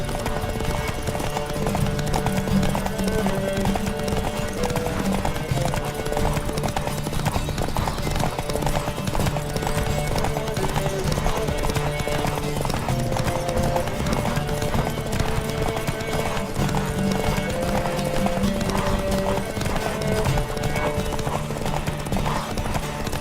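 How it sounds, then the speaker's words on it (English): Horse hooves galloping in The Witcher 3, a fast continuous clip-clop rhythm held for over twenty seconds, close and loud, under music, with a brief whinny. "Don't spare the horse!"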